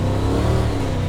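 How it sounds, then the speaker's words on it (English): A turbocharged street car tuned to well over 1,000 horsepower accelerates hard, its engine giving a loud, close, sustained roaring rev for a brief moment. "You just walk on the throttle"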